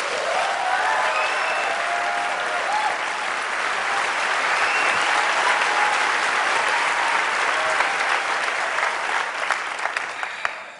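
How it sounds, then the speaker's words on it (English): Sustained audience applause from a large crowd fills the hall, loud and continuous clapping that tapers slightly toward the end. "I guess we're going to send that applause to the 350 journalists who worked with you, right?"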